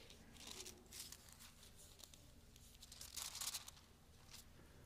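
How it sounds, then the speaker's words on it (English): Bible pages rustle and crinkle as they are turned in a church setting, several soft crisp bursts of paper noise, fairly faint, with no speech. "I love to hear the rustling of paper."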